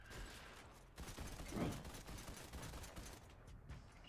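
Fortnite video game gunfire crackles in rapid bursts at moderate distance, a dense fusillade of shots that swells in the middle and fades toward the end, with no speech over it.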